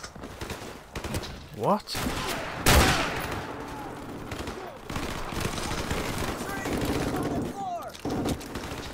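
AK-47 gunfire in Call of Duty: Modern Warfare Remastered on the War Pig mission, with bursts and scattered shots through a busy game battle, a loud blast near the start, and a voice speaking briefly.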